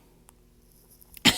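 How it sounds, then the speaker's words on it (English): A single short cough bursts out close and loud at the very end after near silence, no talking around it. "I had a little cough in my throat"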